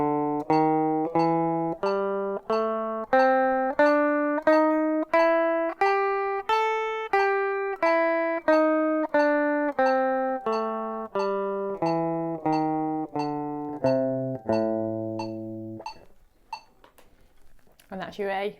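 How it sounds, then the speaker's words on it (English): A guitar plays the A blues scale evenly up and back down, one clean plucked note per beat with a steady click keeping time, then stops near the end, leaving faint noise. "And that's your A blues scale."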